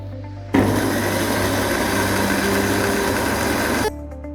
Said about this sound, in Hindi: तमाम ड्राई स्पाइसेस को सौते करके ग्राइंड करेंगे।